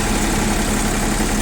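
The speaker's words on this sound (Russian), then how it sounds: "двигатель у нас сам по себе где-то отдельно от нас там вибрирует" A Japanese mini tractor engine idles close by, a loud, even low rumble with a steady vibrating pulse throughout.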